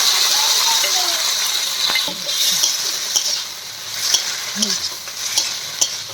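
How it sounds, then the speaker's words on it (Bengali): Bottle gourd stems being stirred with mustard paste in a pan, a spoon scraping and stirring in quick irregular strokes over a soft sizzle, close and moderately loud, with no talk. "বাটাটা দিয়ে এই যে নেড়ে চেড়ে নিলাম।"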